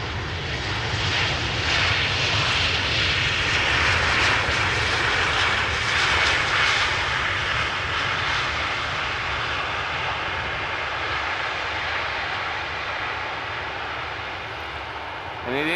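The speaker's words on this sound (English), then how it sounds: "This is Vueling flight 8309 A320 arriving from Valencia." A Vueling Airbus A320 lands at Amsterdam Schiphol, a continuous loud broadband jet roar sustained throughout at close range, steady with no talk over it.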